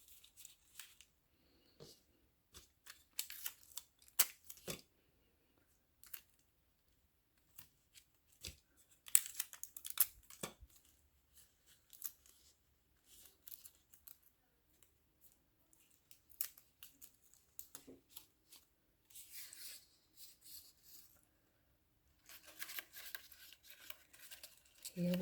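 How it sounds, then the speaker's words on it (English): Tape being handled and pressed to attach string to a paper shadow puppet of a camel and rider: scattered crinkles, tearing bits and light rustles come in irregular bursts, close and fairly quiet, with no talking. "Let's go ahead and tape the string"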